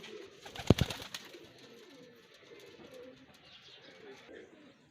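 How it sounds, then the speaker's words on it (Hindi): Pigeons coo nearby, low throaty calls with one louder burst early, over a quiet, rustling outdoor background. "ये माशाल्लाह बड़े मेरे दिलो जान वाले फेवरेट कबूतर हैं"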